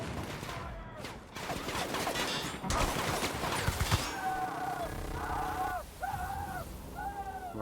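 Rapid gunfire from a shootout in The Outer Worlds, dense cracking shots over several seconds followed by fading echoes and warbling game tones, fairly distant and moderate in level.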